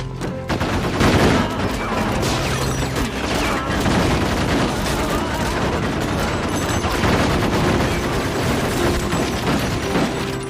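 Rapid gunfire from a car rattles in a dense, continuous barrage, loud and close, with overlapping shots and a busy action-scene background throughout.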